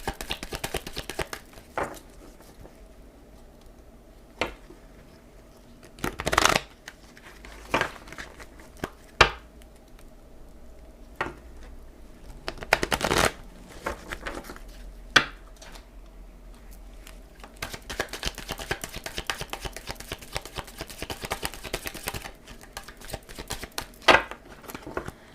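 A deck of tarot cards is shuffled and cut by hand: soft, close riffling and patting throughout, with scattered sharper slaps of the cards and a denser stretch of shuffling near the end.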